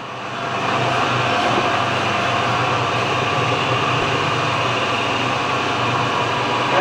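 Carlton 3-foot by 9-inch radial arm drill, built in 1994, with its spindle running at 100 RPM: a steady, loud mechanical hum with a constant droning tone, continuous throughout and no talking.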